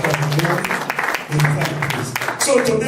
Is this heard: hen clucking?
no